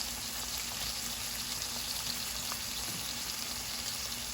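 Two small yellow onions sear in a pan alongside marinated chuck steak, giving a constant, even sizzle and crackle of frying, close and uninterrupted.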